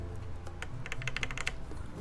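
Typing on a mechanical keyboard fitted with GMK Umbra keycaps, a Noxary 268.1 build, with a quick run of sharp, close keystrokes clustered in the middle of the moment over a low room hum.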